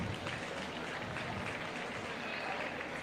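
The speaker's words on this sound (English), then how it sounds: "let's go and give them a big round of applause" Crowd applause at a county 4-H market steer show, a steady, dense wash of clapping that holds evenly throughout with faint voices underneath.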